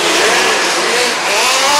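Loud, sustained engine howl as midget race cars race the Bull Ring track at the Midget Nationals on a Saturday night, revving and shifting pitch as cars pass.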